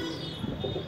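A young white-feathered pigeon cooing softly while held in a hand, a brief low murmur close by over steady background noise.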